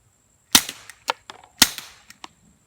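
Two sharp, close suppressed pistol shots from a Rugged Obsidian 45 firing subsonic ammunition outdoors by the woods, each followed by quick mechanical clacks and faint metallic rattles, with silence between.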